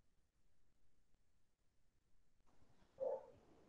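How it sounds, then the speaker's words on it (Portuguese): A dog gives a single faint bark at a distance, heard against a quiet indoor background after a stretch of near silence. "Cachorro latindo aqui."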